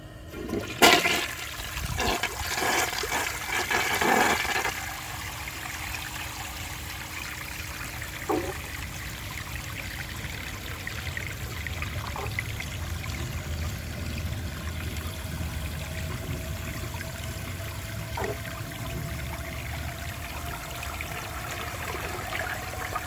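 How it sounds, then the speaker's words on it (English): A 1983 Crane Radcliffe toilet with its tank filled to the top flushes with a loud opening rush, then settles into a long steady trickle and refill hiss with occasional faint clunks. "That was an awesome flush."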